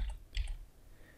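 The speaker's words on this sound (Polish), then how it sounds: "Wpisuję na klawiaturze komendę linia." Keystrokes on a computer keyboard while a command is entered in AutoCAD drafting software: a short cluster of soft, close clicks, a few quick taps in succession, fairly quiet with low room hum beneath.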